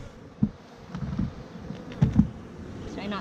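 Bees buzz close by while a hive is being handled, a faint, wavering drone broken by a few soft knocks and thumps of handling.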